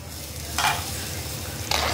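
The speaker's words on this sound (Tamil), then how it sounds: "நல்லா கலக்கி விட்டுடலாம்." A ladle scrapes twice through a pot of boiling crab curry made with ground coconut and fennel, heard close over a steady bubbling sizzle.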